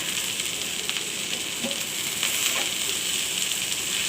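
Drumstick leaves (sajna shak) frying in a pan give a steady, close sizzle with bright hissing crackle and a few faint stirring clicks, no voice over it.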